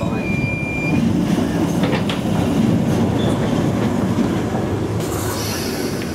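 A London Underground Piccadilly line train running, with a loud steady rumble of wheels on track and carriage noise filling the car, a faint high squeal at the start.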